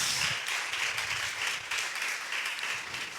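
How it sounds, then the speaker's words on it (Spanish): A church congregation in Monterrey applauds steadily after a call to praise, a dense wash of many hands clapping throughout, fairly loud and unbroken. "denle un fuerte aplauso al Rey de Reyes y Señor de Señores"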